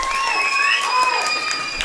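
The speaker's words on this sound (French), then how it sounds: "On peut les applaudir très fort." Children clapping and cheering for rabbis at a large Passover-preparation gathering of kids in Strasbourg, a loud, dense, steady applause with high shrill voices whooping over it throughout.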